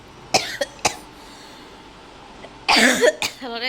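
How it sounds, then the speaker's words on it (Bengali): Several sharp coughs, a few isolated ones early, then a louder cluster of harsh coughing near the end, close to the listener. "কাশি লাগতেছে"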